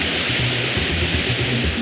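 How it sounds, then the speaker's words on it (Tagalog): Rushing river water pours steadily into a resort pool in Oriental Mindoro, a loud, continuous broadband roar close by with no break across the moment. "Yung tubig ay rumaragasa!"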